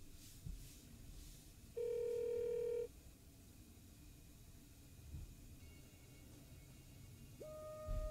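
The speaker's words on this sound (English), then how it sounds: "we'll see if my daughter answers the phone" A phone call in a video game rings out as faint electronic tones: a steady held beep of about a second, then quiet line hiss, then another tone starting near the end, with no talking.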